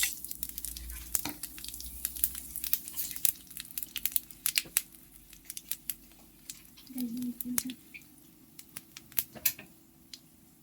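Panch phoron, two dried chillies and a cardamom sizzle in hot mustard oil, giving a close, sharp crackling with scattered pops over a low background hum.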